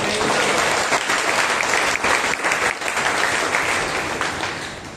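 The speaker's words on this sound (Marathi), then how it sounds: "जोरदार टाळ्या वाजवा" A church congregation at a Monday prayer meeting claps loudly and continuously, a thick sustained roar of hands that eases slightly in the final second.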